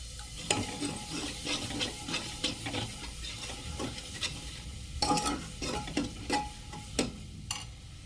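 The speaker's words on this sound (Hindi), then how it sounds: "अब डालते हैं मटर, डाल दी हमने मटर।" Peas added to vegetables frying in a pan, a close sizzle under frequent sharp stirring scrapes and taps of the spoon against the pan.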